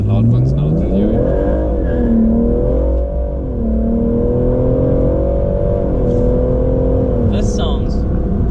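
BMW M140i with a loud aftermarket exhaust, revving hard close by, the engine note climbing and falling in long sweeping pulls over a steady deep drone.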